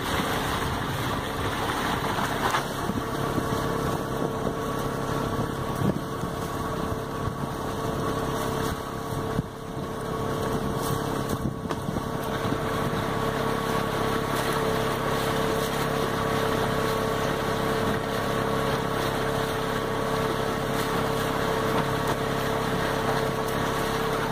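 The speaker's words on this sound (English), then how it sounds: "Alright, I fired up the outboard" A 9.9 horsepower boat outboard motor drones steadily throughout at close range while cruising on a river at about 4 miles an hour, an unbroken buzzing hum with no talking.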